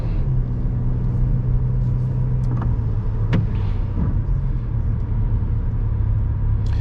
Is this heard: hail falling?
no